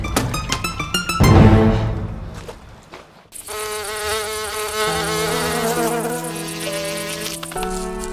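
A fly buzzes around in a drama scene, its whining drone near and sustained, coming in and out over a rising tonal background.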